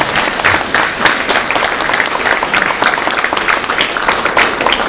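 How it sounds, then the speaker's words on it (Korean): A church congregation applauds together in dense, steady clapping that fills the room at close range and keeps an even intensity throughout, with faint voices mixed in. "박수도 한번 쳐."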